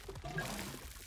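Water poured over plants in the video game Grow: Song of The Evertree, a short, soft splashing trickle lasting about a second.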